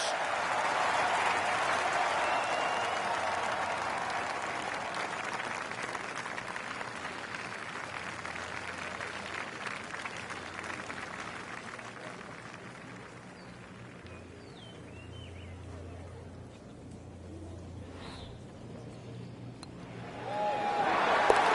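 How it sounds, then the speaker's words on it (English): Crowd in the PGA Tour Golf video game applauding and cheering after an eagle: a steady, moderately loud wash of clapping and crowd noise that gradually fades, then swells again at the end. "The crowd goes wild after that eagle."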